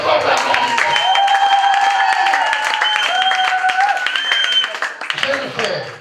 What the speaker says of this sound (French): On acclame très fort la grâce.